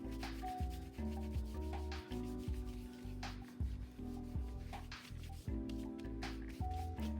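Paint being wiped thinly across a journal cover gives soft, close rubbing strokes in an uneven rhythm, heard under steady tonal background music.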